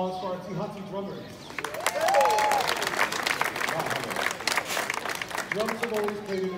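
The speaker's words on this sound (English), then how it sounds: "how about a round of applause for our two Hudson drummers?" An audience in Hawaii claps for two drummers, a burst of crisp applause rising in the middle, with a voice speaking at the start and again as the clapping fades.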